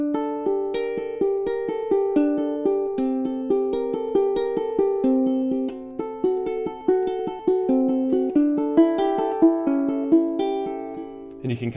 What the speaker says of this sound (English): you end up with this second triplet picking etude, and it sounds something like this.